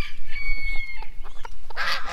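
Chickens clucking and calling in a backyard flock that also holds peafowl and geese, close and fairly loud, with a brief burst of louder squawking near the end over a low background hum.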